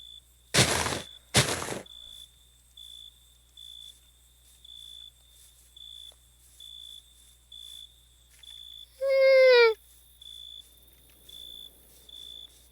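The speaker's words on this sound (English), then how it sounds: "Why are there already crickets?" In modded Minecraft, steady crickets chirp in short regular pulses against near silence, interrupted by two loud bursts of noise and a brief descending warble.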